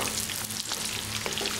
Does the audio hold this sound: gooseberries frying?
yes